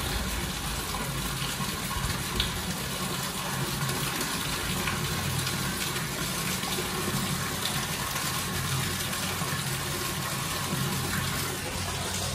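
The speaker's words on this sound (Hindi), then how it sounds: "चले जी बोर तो चला दिया, पानी इंशाल्लाह भरता रहेगा।" Water from a borehole pump gushes steadily into a tank, a loud, continuous rushing flow that holds unchanged for the full stretch with no voices.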